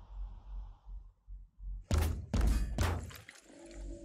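Three heavy, booming gunshots from a weapon in the tactical game Phoenix Point. They fire in quick succession, loud and close, and ring out over a low background hum.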